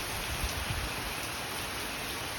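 Heavy rain pours down in a dense, steady hiss, loud and continuous, with no voices.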